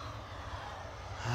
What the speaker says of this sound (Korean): 저쪽에 지금 트랙터로 볏짚 작업을 하고 있네요